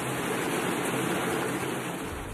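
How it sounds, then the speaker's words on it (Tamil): Heavy rain with lightning falls in Theni as water floods the roads: a dense, even hiss of downpour continues without a break, with no thunder or voices standing out. "மின்னலோடு கனமழை பெய்த நிலையில் சாலைகளில் தண்ணீர் பெருக்கெடுத்தோடியது"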